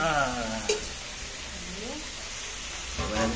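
Tomato, onion, ginger, garlic, chilli powder, cumin, coriander, salt and turmeric sautéing in oil, a low steady sizzle with a few soft scraping stirs, quiet and continuous.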